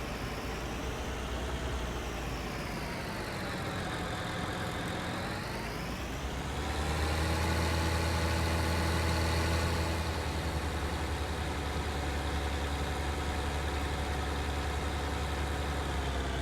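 A tractor engine in Farming Simulator 19 drones steadily near and loud, its pitch dipping and rising around the middle before settling into a heavier, deeper idle-like rumble.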